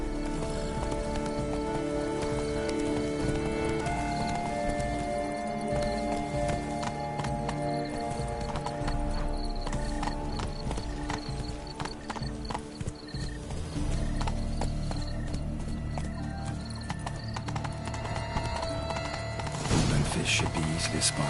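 A horse ridden through large gardens in a video game, steady rhythmic hoofbeats clip-clopping throughout under a busy game soundscape, with a voice talking over it.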